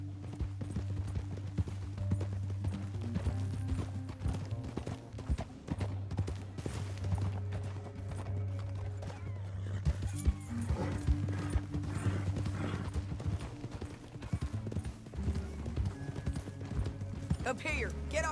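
Steady clip-clop of horse hooves at a trotting pace in the video game Red Dead Redemption 2, under a low droning music bed, continuous throughout.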